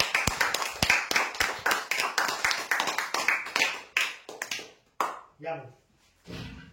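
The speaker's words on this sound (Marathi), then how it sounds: "जोरदार टाळ्या विजयासाठी" Applause for lucky draw winners at a weekly prize draw event: a crowd claps in dense, rapid bursts that fade out after about four seconds, followed by a few scattered claps and brief sounds.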